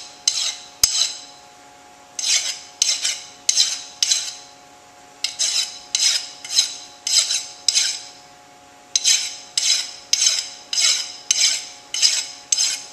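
Hand file rasping burrs off the edge of a machined metal part, in regular bursts of short scraping strokes, loud and close, with brief pauses between groups and no talk.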